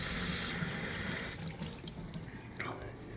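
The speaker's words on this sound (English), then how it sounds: "We can go ahead and run some water in." Tap water runs into a bathroom sink and drains away through newly fitted PVC drain pipes, a steady close rushing and splashing that fades into softer gurgling trickles.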